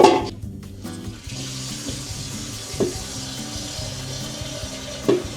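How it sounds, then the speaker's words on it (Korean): Water runs steadily into a bidet tank through a newly tightened hose with a soft hissing rush, accompanied by faint knocking and occasional sharp clicks, close and moderately quiet. "지금 물은 차는 소리가 들리고 있고요"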